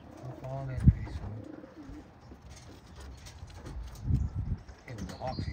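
Racing pigeons coo softly in a loft, several low burbling calls rising at the start and again near the end, mixed with shuffling and background voices talking nearby.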